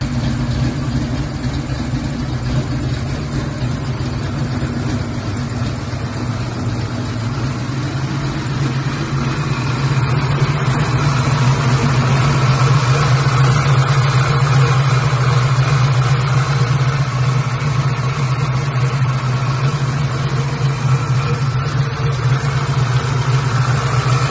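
A car engine with a ported build idles steadily with a deep, constant low rumble, growing slightly louder about halfway through, with no talking.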